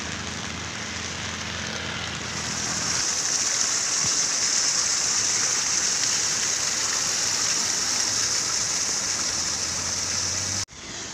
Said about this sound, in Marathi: पाऊस जबरदस्त चालू आहे एकदम.